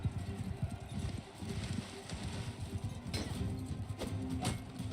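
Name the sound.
horse hooves in a Viking video game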